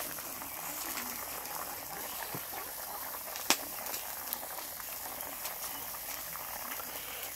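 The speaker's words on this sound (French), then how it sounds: "on voit l'eau qui bout." Water boiling in a paella pan over a wood fire outdoors, a steady faint bubbling hiss throughout with a few sharp crackles and pops, quiet and continuous.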